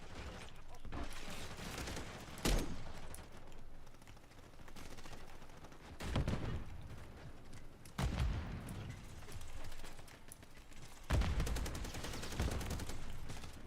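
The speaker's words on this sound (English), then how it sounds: "Yes, turret. Go, turret. Do your duty, turret." Automated turret in a video game firing bursts of gunfire, with several sharp loud volleys recurring at intervals over a steady background.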